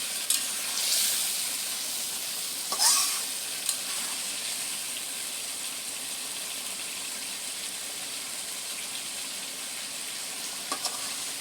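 Steam hisses steadily from a rice cooker holding a bowl of fish, a continuous airy sizzle with a few sharp clicks and bursts early on, then settling into an even hiss; no talking.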